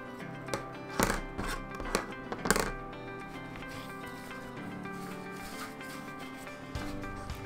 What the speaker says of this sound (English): just doing crisscross scratches, just to give something for that glue to bite into